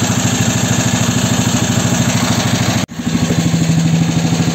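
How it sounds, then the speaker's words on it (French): A small tractor engine towing a Seat car chugs steadily at close range, loud and regular, with a brief dropout partway through before the same throbbing rhythm resumes. "Un petit tracteur qui traque la voiture."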